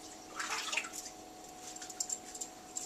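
Hands are rinsed under running water in a lab sink, making soft splashing and a scatter of small drips, faint and close against a steady low hum.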